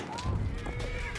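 A horse in the Battlefield video game whinnies with a rising and falling neigh over faint hoof clip-clop, fairly close and moderately loud.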